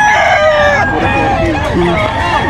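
A rooster crows amid the bustle of a Bocaue fowl market, one loud near call with strained harmonic notes, and clucks and crowd chatter underneath.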